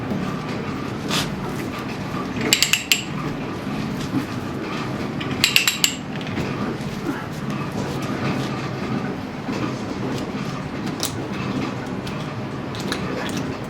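A 1/2 to 1 inch ratcheting pipe threader cutting threads on pipe, with steady grinding and repeated metallic ratchet clicks in brief bursts, close and fairly loud.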